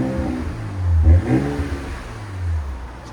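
A 2026 RAM 1500 with the 3.0L Hurricane inline-six and a Flowmaster Super 10 exhaust revs once and settles back, a deep throaty exhaust note swelling then easing to a steady idle, recorded close.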